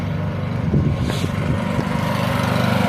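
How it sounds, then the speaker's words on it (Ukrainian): Inverter generator running steadily under test, a close, constant engine hum with low rumbling tones and no talk over it. "Ось такий генератор."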